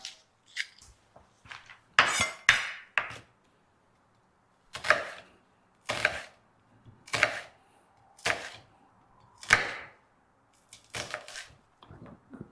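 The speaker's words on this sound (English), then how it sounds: "Onion chopping, we make it quite easy for cutting it the ends off." A knife chops through an onion on a board in sharp, separate strokes, some in quick pairs, with short pauses between them and no talking.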